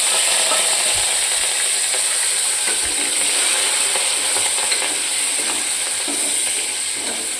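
Curry leaves, chili and tomatoes hit hot oil in a pan for an eggplant-potato curry, setting off a loud, roaring sizzle that holds steady and close with a couple of low thuds early on.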